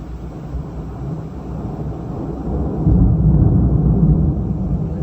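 Low, heavy thunder rumbles during a rainy spell of bad weather outdoors, a continuous deep roll that swells louder partway through and sustains without any talking.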